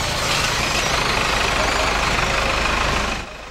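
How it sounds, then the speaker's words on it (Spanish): Trucks hauling away evicted families' belongings, a steady heavy engine rumble holding loud and constant before dropping off near the end. "Camiones salían con sus pertenencias"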